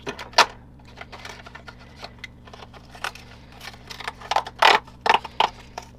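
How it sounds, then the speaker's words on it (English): Scissors cutting through packaging from an Erin Condren advent calendar, a series of crisp snipping clicks at irregular intervals, close and clear over a quiet background hum. "I'm just going to keep using the scissors"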